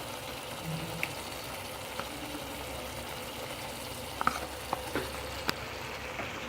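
Tomato pickle with tamarind pulp stirred in a pan, a steady soft sizzle with a few faint, sparse spoon scrapes and clicks against the metal, no voices.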